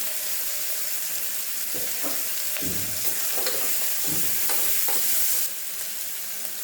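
Slit green chillies fry in hot oil in a pan for seeraga samba chicken biryani, giving a steady close sizzle with a few scraping stir sounds.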